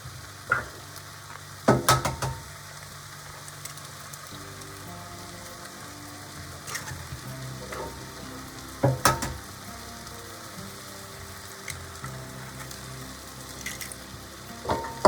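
Eggs fry in a pan with spinach and feta, giving a soft, even sizzle close by, punctuated by a few sharp clanks and scrapes of a utensil against the pan, with no talking.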